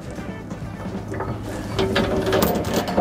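A ratchet wrench clicks steadily while tightening a carriage bolt through the back link of a trailer hitch safety chain on a gooseneck air hitch, with a rapid, close, mechanical pawl rattle that grows louder near the end.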